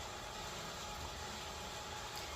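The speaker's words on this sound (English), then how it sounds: "I have the fan on" An electric fan runs in a room, giving a steady, faint broadband whir that holds even and unbroken throughout with no voices.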